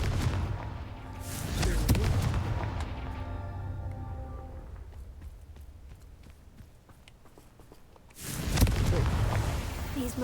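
Confringo fire spell in Hogwarts Legacy during the Merlin trials: a loud booming blast with a rumbling, ringing decay, and a second heavy burst near the end.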